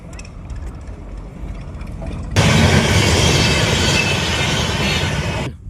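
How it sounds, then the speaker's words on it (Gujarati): A train rushes past close by, a loud, sudden roar of wheels and carriages that starts abruptly and holds steady before cutting off. "આ રેલગાડીનો જ આવવાનો સમય થયો"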